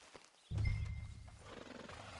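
A horse in a cowboy video game gives a short snort or whinny after a brief quiet moment, followed by a low rumbling breath and soft movement, close and fairly loud.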